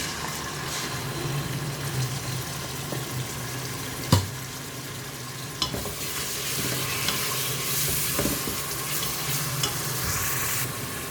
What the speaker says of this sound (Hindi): इन सब चीज़ों को अच्छे से हम भून लेंगे।